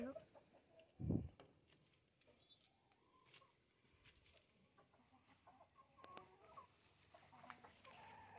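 Chickens cluck softly in the background, with one louder, sharp squawk near the start, then quiet scattered clucks and faint rustling.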